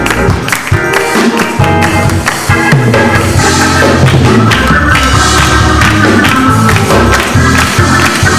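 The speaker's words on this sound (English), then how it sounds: "Come on, clap your hands." Church congregation clapping hands together during a worship service, a loud continuous wash of claps blended with music and crowd noise throughout.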